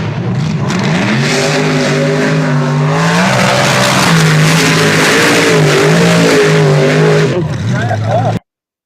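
A mud racing truck makes its fastest pass of the day, the engine roaring loud and close with rising and shifting pitch as it accelerates hard, holding at full power for several seconds before cutting off abruptly, with people talking over it.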